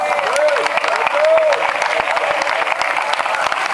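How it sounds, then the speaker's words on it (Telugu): A church congregation claps in praise during a sermon, a dense, steady wash of many hands filling the room, with a few voices and cheers rising briefly above it. "మీకు సంతోషము హృదయానందము కలిగితే యేసయ్యను స్తుతిస్తూ చప్పట్లు కొడతారా?"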